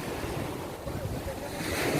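Rough sea surf breaking near a shore where small boats have been pulled up for safety, a continuous loud wash of waves mixed with wind buffeting the microphone, with no voices.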